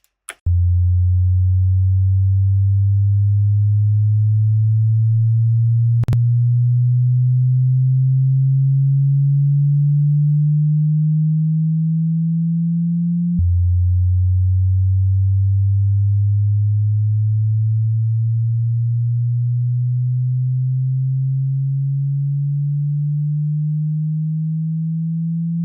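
Synth pitch riser in FL Studio, a pure sustained tone climbing one octave over several bars, then dropping back and climbing again, loud and steady with a faint click midway through the first rise.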